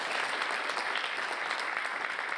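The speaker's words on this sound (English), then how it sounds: "So we'd like you to give each of them a big round of applause." An audience at a junior chef competition claps for the finalists, a brief, even burst of dense applause at moderate volume with no talk over it.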